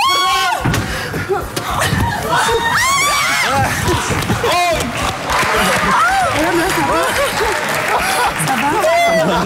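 A studio audience on a Sunday entertainment game show cheers and shouts loudly and continuously, with excited whoops, children's voices, clapping and a few thuds mixed into the dense, energetic din.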